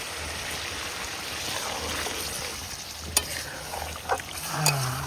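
Braised meat sizzling in a pan as water is poured in at an outdoor pondside picnic, a dense continuous hiss with a few brief splashy bursts and utensil knocks near the end, close up, no talking.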